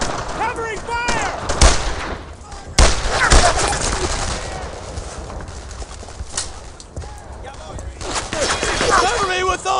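Gunfire from the World War II shooter Brothers in Arms: Earned in Blood: dense bursts of rifle and machine-gun fire with loud sharp cracks, mixed with shouted voices and battle noise throughout.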